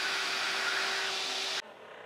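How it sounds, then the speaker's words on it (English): A vacuum cleaner hose pulls against a scrap of tape and a paper weight with a steady, loud, broadband roar, its motor whine holding level before the suction abruptly drops to a quieter hiss near the end. "I'm just thinking it'll be something for the vacuum to suck on."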